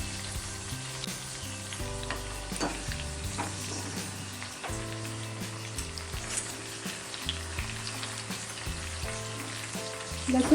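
Whole garlic cloves, still in their skins, sizzle and crackle in hot oil with a dense, continuous frying hiss and occasional stirring, while soft music plays underneath.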